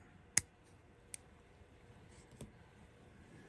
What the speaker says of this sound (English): From here, we're just going to snip that.